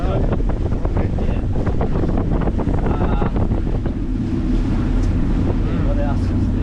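Extreme 500 Sport Fisher boat motoring slowly near Porirua, a steady low engine rumble mixed with heavy wind buffeting and water wash throughout.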